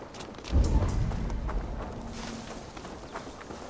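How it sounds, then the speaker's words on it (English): Horse hooves clip-clop at a walk in Assassin's Creed Valhalla, soft and fairly close, a short run of muffled steps over quiet ambient game sound. "Oh, looks like Ranvi's got a horse"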